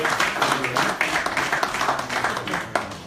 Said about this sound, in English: A round of applause for David